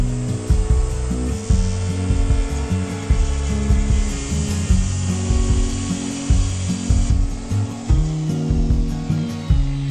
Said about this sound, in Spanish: Los cortamos con sierra circular y un disco para fibrocemento.